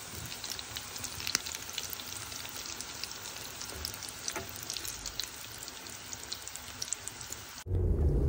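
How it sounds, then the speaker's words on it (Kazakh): Potato cutlets fry in oil with a continuous, dense crackle and sizzle like fine rain, close and even, ending abruptly in a low rumble near the end. "Осындай қызарғанша қуырамыз"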